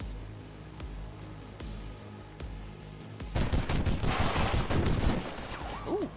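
Weapon fire in the video game XCOM 2: scattered single shots at first, then a louder, dense burst of rapid automatic gunfire with sharp cracks over the second half.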